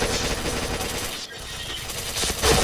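Bursts of rapid automatic gunfire from an online match of the shooter game Point Blank, dense and loud throughout with a brief gap midway, ending in a sharper shot burst.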